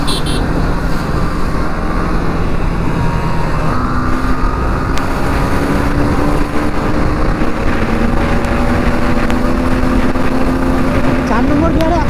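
A Bajaj Pulsar NS 200 motorcycle revs hard through the gears and hits the limiter in fifth at speed, its engine note climbing steadily under heavy wind rush, with a rider's voice over it.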